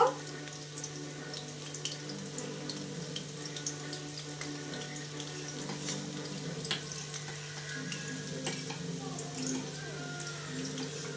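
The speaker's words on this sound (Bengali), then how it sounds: "এবার চিকেনটা দেখো ভাজা হয়ে গেছে, এবার তুলে নিই" Chicken sizzles steadily in a hot pan, a close, continuous frying crackle over a low hum.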